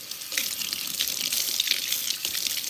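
Cold water runs steadily from a tap to rinse hair: a continuous loud, close hiss of spray and splashing with slight shifts as the stream moves, and no talking.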